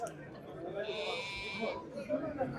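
A single drawn-out sheep bleat rises over low murmuring voices at a livestock market, fairly close and moderately loud.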